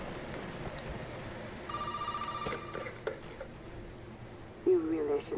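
A telephone rings inside the horror video game Resident Evil 7: Biohazard, a repeating electronic ring among low ambient game sounds, with a brief louder burst near the end.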